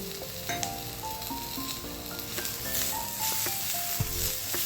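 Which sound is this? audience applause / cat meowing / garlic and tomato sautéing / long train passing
garlic and tomato sautéing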